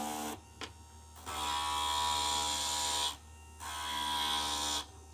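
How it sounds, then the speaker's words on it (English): A small electric grinder works on a piece of vinyl in loud buzzing bursts, whirring in several runs separated by short pauses, close up with no talk. "just do one more pass in the grinder"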